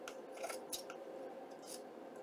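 Scissors trim fabric off the spine of a junk journal, with a few quiet crisp snips and rustles spread across a short moment and no talking.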